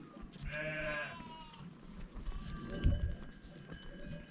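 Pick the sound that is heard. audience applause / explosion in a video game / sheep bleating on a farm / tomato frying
sheep bleating on a farm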